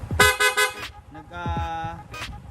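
Several loud horn blasts at close range from a vehicle fitted with stock, loud and rapid horns: a short series of toots, a pause, then a longer sustained honk and a final brief beep.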